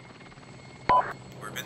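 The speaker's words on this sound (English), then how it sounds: "We're busy dodging helicopters." A helicopter's low rotor drone hums steadily in the background of a video game firefight, interrupted near the middle by a sudden sharp burst of louder noise.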